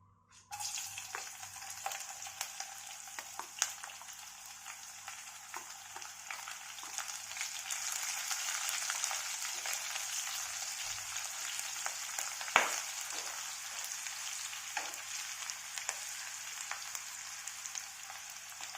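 Onion with green and red chilies frying in hot oil gives a loud, close, continuous sizzle lasting well over fifteen seconds, dotted with small pops and stirring clicks.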